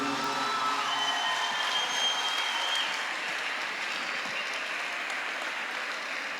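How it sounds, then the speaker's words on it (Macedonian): Sustained applause from a large audience at a concert in an arena, a dense, even wash of clapping that fills the whole stretch at steady loudness without breaks. "Ве молам дајте еден аплауз"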